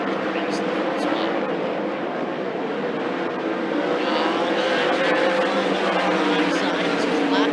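360 sprint cars race around a speedway, a loud continuous roar of several engines droning and shifting pitch, heard under an announcer's commentary throughout.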